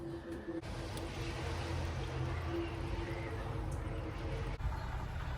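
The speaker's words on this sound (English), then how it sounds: "Can you hear it gurgling?" Steady broadband rushing and burbling of water moving through a Triumph Spitfire 1500's new radiator and cooling system, continuous and fairly close, with a low mechanical hum beneath.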